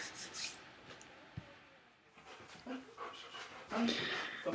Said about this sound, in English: He's a sable German Shepherd, about 2 years old.